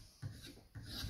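A file rasps lightly over a horn nock fitted to a self yew English longbow, making two soft, close strokes in a quiet space.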